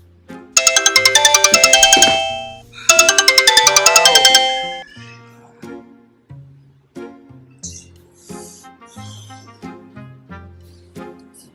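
A mobile phone ringtone blares in two loud, bright bursts, then trails into softer melodic tones that continue quietly for several seconds. No one speaks.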